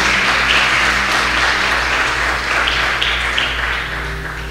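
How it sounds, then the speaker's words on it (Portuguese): A church congregation claps together in praise, a loud, full burst of applause that stays dense and steady before easing slightly toward the end, with a low hum underneath. "Você pode dar uma salva de palmas ao Senhor,"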